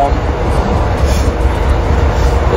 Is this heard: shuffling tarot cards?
no